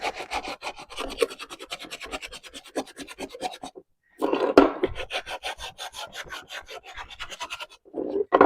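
Hand sanding of a painted thrift-store wooden piece, a rapid run of close rubbing scrapes, a brief pause, then more brisk back-and-forth strokes.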